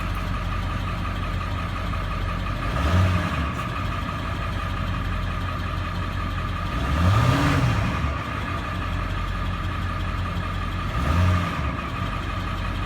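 A 7.3L diesel truck engine with 574,000 miles idles with a steady rumble, rising into three brief revs spaced a few seconds apart before settling back each time.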